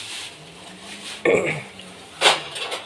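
A metal cooking pot is shifted aside in a home kitchen, two sharp clanks of metal on a hard surface standing out over quiet background, with faint voices nearby.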